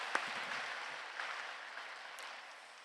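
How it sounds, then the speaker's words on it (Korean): Applause from a church congregation for the choir and its conductor during a Sunday worship service, a brief burst of clapping that fades steadily, with a faint voice near the start. "우리 지휘자님과 또 찬양대와 우리 콰이어에게 다시 한번 축복의 박수, 감사의 박수 드리겠습니다"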